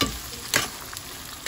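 Shrimp paste (bagoong) sautéing in a pan, with a soft steady sizzle broken by a few sharp spatula scrapes and stirs near the start, middle and end.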